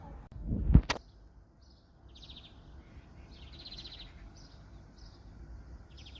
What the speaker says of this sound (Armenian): Դրսում լսվում է թռչունների դայլայլը։